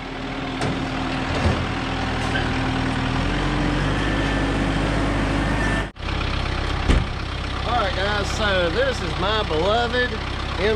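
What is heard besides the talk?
Kubota M7060 tractor engine idling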